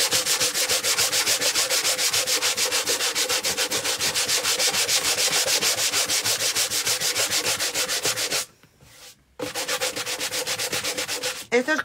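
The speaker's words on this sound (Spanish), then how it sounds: "ahora vamos a pasarle una lija suavita" Steady rhythmic rubbing of fine sandpaper across a planter, close and continuous, with a brief pause near the end before the strokes resume.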